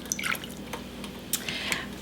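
Water poured into a thick-bottomed deep saucepan over sugar for peanut brittle, heard as a few light drips and small splashes, close and fairly quiet, with soft kitchen clatter between them.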